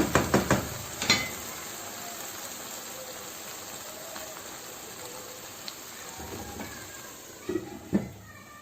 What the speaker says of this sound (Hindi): अब इसको हम 5 से 6 मिनट के लिए हल्की आंच पे दम पे लगा दें